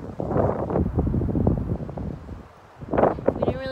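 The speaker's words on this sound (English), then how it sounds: "I don't know if you guys can even hear us because it's so windy." Strong wind buffets the microphone outdoors in gusty, rumbling bursts, with a brief lull before it surges again; people talk faintly underneath.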